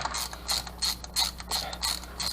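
A ratchet clicks in quick, repeated strokes while tightening the carburetor bolts on a Sea-Doo 717 engine, with bursts of sharp metallic pawl ticks in an even rhythm close by.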